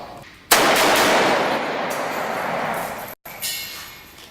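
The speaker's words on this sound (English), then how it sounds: "This is my AK-47, and today I get to shoot my boss." An AK-47 rifle fires at an armored car in one long, loud, sustained automatic burst that cuts off for an instant, then resumes, harsh and close with a rough, ringing roar.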